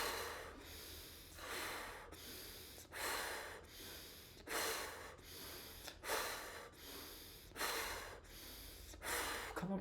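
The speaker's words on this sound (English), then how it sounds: "Back to the bellow breathing." Forceful, rapid bellows breaths in a breathing exercise, about a dozen sharp rhythmic huffs in and out at a steady pace, close and alone with no talking.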